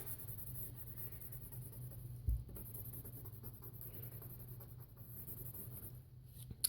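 A pen draws lines on paper while an Inside Out Sadness character is sketched, a faint, continuous scratchy rustle close by, with one soft tap partway through.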